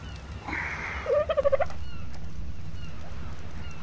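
Short burst of a bird's gobbling, clucking call in the Ark survival video game, a rapid run of notes over steady ambient game noise, moderately near and alone without talk.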